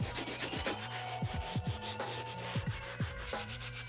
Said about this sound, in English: really using it to tackle and get away all this Hawaiian sand from these outsoles